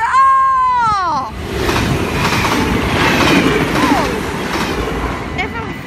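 A train passes close by on a rail line in the Netherlands, with a loud steady rumble and wheel clatter that go on throughout, and a sweeping whistle-like tone sounds at the very start.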